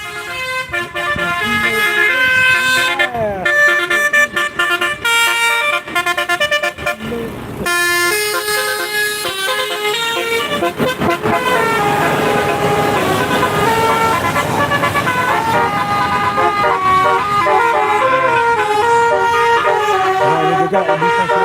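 Telolet musical horns from vehicles on the road sound repeatedly, their bright multi-tone melodies overlapping with steady traffic and engine noise throughout, loud and close.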